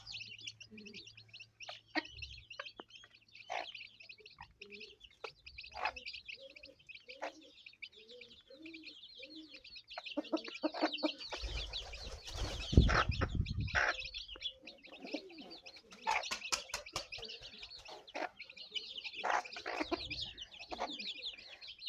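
Bantam hens feeding their young cluck in soft, repeated bursts amid chirps from chicks, then a loud flurry of wing flapping erupts midway before the clucking and cheeping resume, all fairly close.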